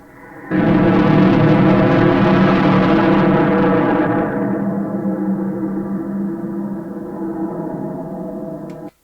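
A fart recording pitched far down and fed through fuzz distortion becomes a dense, growling horror drone that starts abruptly, holds loud and harsh, then loses its upper hiss halfway and sustains lower before cutting off.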